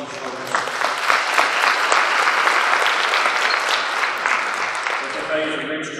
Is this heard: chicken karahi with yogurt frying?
no